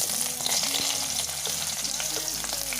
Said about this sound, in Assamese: এতিয়া মই পিয়াজখিনি দি লম লগতে জলকীয়া কেটাও দি লম